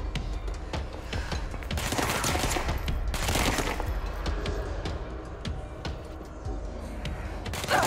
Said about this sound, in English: This guy is shooting me again.